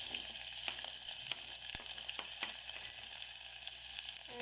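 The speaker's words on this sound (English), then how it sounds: "Mustard seeds and curry patta in some oil." Mustard seeds, curry leaves, cumin and green chilies sizzle steadily in hot oil, a dense continuous hiss broken by a few sharp pops and crackles, close and fairly quiet, with no voices.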